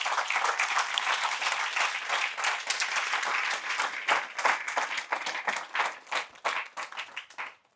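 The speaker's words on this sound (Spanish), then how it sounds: "Dale un fuerte aplauso a nuestro Dios." A church congregation claps for God during a Spanish-language sermon, strong clustered hand claps that start dense and break into looser, uneven bursts before fading out.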